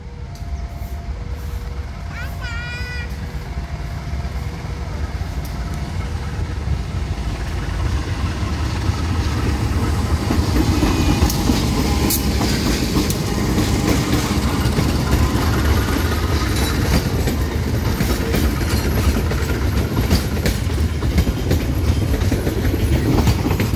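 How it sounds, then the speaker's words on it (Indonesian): The Bangun Karta passenger train rolls into Kutoarjo station, Indonesia, its rumble and clattering wheels growing louder and nearer, with squealing brakes and hissing air. "Kereta api Bangun Karta tiba di stasiun Kutoarjo, persiapan berhenti."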